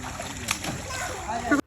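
Children wading and splashing into water at an outdoor swimming spot, with a sharp splash burst amid steady sloshing and excited voices of children and adults talking over it, ending abruptly.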